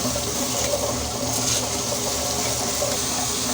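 Wet grinder running with soaked ragi and black urad dal, a loud continuous whirring hum with wet swishing and churning that stays steady and close throughout, with no talking over it.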